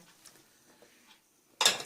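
Diced vegetables, potato on eggplant, go into a pan for an oven chicken and vegetable dish: a near, sudden clattering burst of pieces hitting the pan and being stirred, after a quiet stretch.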